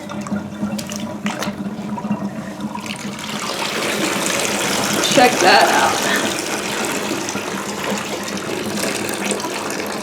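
Water drains from a freshly washed fursuit in a tub, a steady broadband rush and trickle that swells midway, with a person talking briefly over it.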